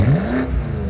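A BMW M8 Gran Coupe Competition with a 4.4-litre 625 hp V8 and sport exhaust gives a short, loud rev, its rising engine note close up and alone.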